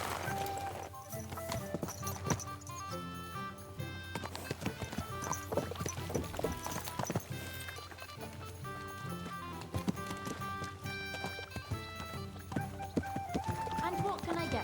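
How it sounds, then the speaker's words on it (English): Rhythmic clip-clop of horse hooves in Kingdom Come Deliverance 2, a steady run of hoof strikes mixed under a busy musical score, with brief snorts or neighs. "This horse must have cost a pretty groschen."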